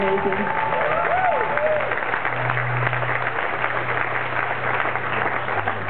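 A concert crowd applauds for a band, a continuous wash of clapping and cheering heard at a distance, with an emcee talking and a sustained tone droning underneath.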